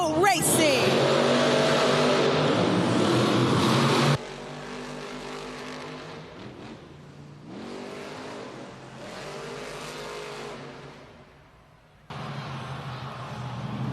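Monster Jam monster trucks roar off the starting line in an arena event in Sacramento, engines revving loud and continuous, dropping and surging again as they race, with an announcer talking over the noise.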